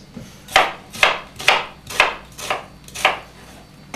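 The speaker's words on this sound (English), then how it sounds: "You don't push straight down, use a cutting motion." A kitchen knife chops food on a cutting board at a cooking class, six crisp, evenly spaced knocks about half a second apart, close and clear with no talking.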